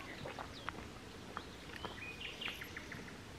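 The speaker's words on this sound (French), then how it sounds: "Tous les bruits des oiseaux et tout, on est seul quasiment." Birds chirp and tweet in short, scattered calls along a quiet forest path, faint and fairly distant, with no talking.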